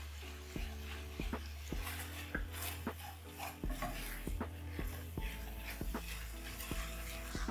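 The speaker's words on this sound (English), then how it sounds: "Then stir." A spoon stirs a beef stock cube and other ingredients for coconut ndengu, scraping and tapping against a sizzling pan in a steady rhythm, close and fairly soft.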